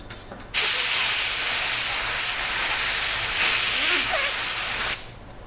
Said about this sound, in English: And then take some pressured air.